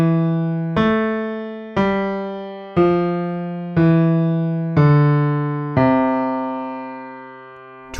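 A counterpoint exercise melody over a cantus firmus in the bass, played as steady two-voice sustained notes, about seven even note changes, each struck cleanly and decaying, with the last note held longer.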